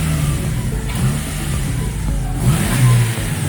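Turbocharged car engine on a dyno tune session, revving in short rising bursts over a steady rumble, close and fairly loud with no talk.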